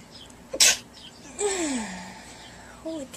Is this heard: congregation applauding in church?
no